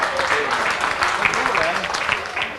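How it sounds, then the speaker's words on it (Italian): An audience claps at an Italian sports award ceremony as photographers and camera operators come forward, moderate applause with a voice talking over it. "un bel applauso mentre i fotografi e gli operatori vanno in scena"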